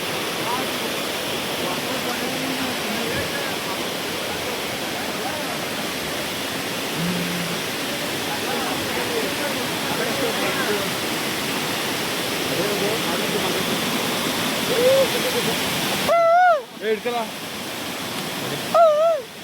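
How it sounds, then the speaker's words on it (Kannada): A waterfall at Kodachadri in Karnataka keeps up a steady broadband rush throughout, and people's voices come through on top of it near the end. "ಈ ಫಾಲ್ಸ್ ಯಾವ ಥರ ಇದೆ ಅಂತ ತೋರಿಸ್ತೀನಿ ನೋಡಿ ನಿಮಗೆ."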